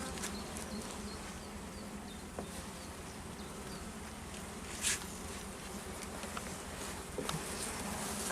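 Honeybees buzz at an open hive during an inspection, a soft, continuous hum of many insects with occasional brief louder buzzes as individual bees fly close to the microphone.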